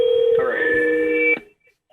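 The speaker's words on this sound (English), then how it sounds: "Phone call." A telephone rings once with an incoming call, a steady electronic tone lasting just over a second, close and clear, then cutting off into near silence; no talk is heard.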